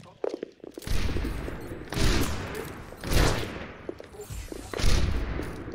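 Gunfire in an Overwatch-style Widowmaker 1v1 match, several loud, close bursts of shots recurring about once a second amid steady game noise, with players talking briefly at the start.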